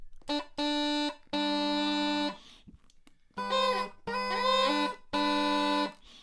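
Uilleann pipe regulators (tenor, baritone and bass) sound a series of sustained reedy chords, six held tones with short gaps, slightly buzzy, close and not perfectly in tune.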